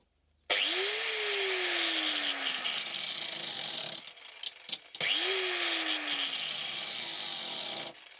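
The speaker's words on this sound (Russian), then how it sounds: "Как вариант, решил попробовать с широким наждачным кругом." An angle grinder fitted with a wide abrasive wheel sharpens a chainsaw chain, spinning up with a rising whine and a harsh, steady grinding hiss, in two long passes separated by a brief pause.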